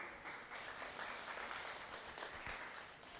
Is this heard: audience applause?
yes